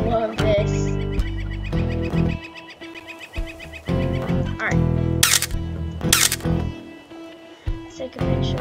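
Camera shutter clicks from the video game Wolf Quest 3, two sharp bright snaps heard close together over game music and bird calls, with a person talking throughout.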